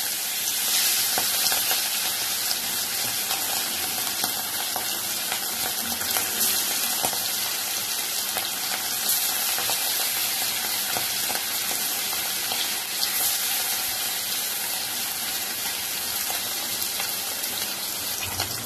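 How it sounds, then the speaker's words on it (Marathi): Fish frying lightly in hot oil, with a loud, dense, continuous sizzle and hiss that holds steady throughout, close to the pan. "चांगले तेल गरम करून मच्छी हलका फ्राय करून घे."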